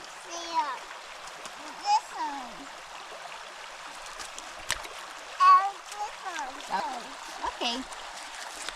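Rocks thrown by a child land in water behind an old gold dredge, making a couple of brief splashes under steady outdoor background noise while people, including a child, talk throughout.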